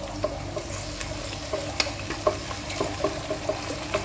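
Chicken feet frying with garlic in a cooking pan, a close continuous sizzle punctuated by sharp clicks and scrapes of a utensil against the pan, no voices.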